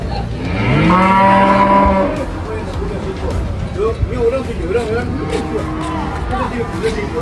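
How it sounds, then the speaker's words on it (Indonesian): A loud, drawn-out cow moo rises over the first two seconds at a livestock market, followed by the low murmur of a busy crowd and background noise. "Ini sapi jantan."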